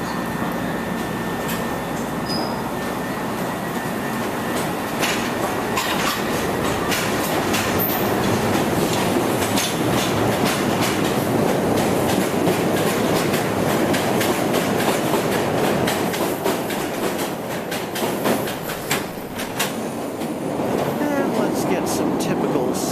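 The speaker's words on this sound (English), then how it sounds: "And now let's watch this Orange Line train as it leaves Roosevelt." A CTA Orange Line train pulls out of Roosevelt station in Chicago, a loud, continuous rumble and rattle of rail cars that holds steady for over twenty seconds with clicking wheels over track joints.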